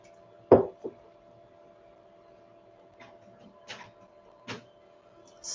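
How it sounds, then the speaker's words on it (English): A home printer calibrating gives a sharp mechanical knock followed by scattered quieter clicks and whirring bursts over a faint steady hum, heard alone in a quiet room. "my printer is talking to me right now. It's calibrating."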